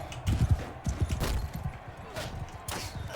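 A horse gallops in the video game Bannerlord, its hooves thudding in quick, uneven clip-clop beats close by, with some talk over part of it.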